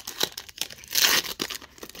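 Someone tears and crinkles open a plastic Chinese Pokémon booster card pack by hand, giving a burst of crackling rips between softer rustles, close up and with no talk.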